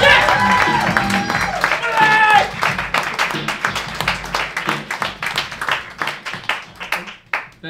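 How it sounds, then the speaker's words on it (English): Comedy club audience clapping and cheering to welcome a comedian to the stage, a dense burst of applause that thins into scattered claps, with music playing underneath at first. "Let's all clap like I did a great intro"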